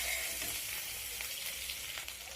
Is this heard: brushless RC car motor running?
no